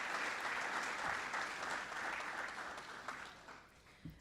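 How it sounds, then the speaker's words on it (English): An audience at the 2017 Allegheny College Hall of Fame induction ceremony gives a sustained round of applause, loud and dense at first, then thinning toward the end. "So please give a round of applause to all those people."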